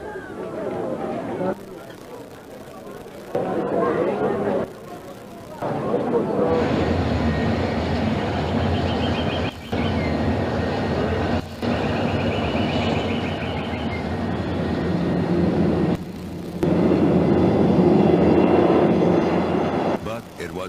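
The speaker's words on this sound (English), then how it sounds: "The airplane that enabled Leahy to make his fortune" An airplane engine drones steadily and loudly throughout, a continuous roar that briefly dips and surges.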